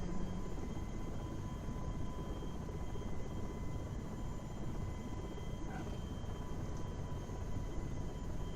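Helicopter in a flight simulator game, a steady droning rotor and engine hum with faint high whine, constant and unbroken, no talking.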